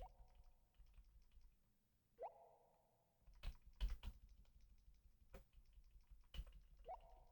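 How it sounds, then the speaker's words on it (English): Keyboard tapping on a computer, sparse clicks and a quick burst of keystrokes near the middle, close but quiet, with faint game sounds underneath. "Can you hear a lot of me tapping the keyboard while we do?"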